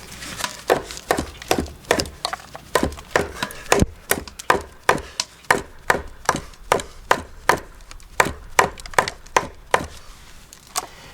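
A Kubey KB274 kitchen knife chops steadily on a wooden cutting board, about two sharp knocks per second throughout. The chopping is close and fairly quiet, with no talk.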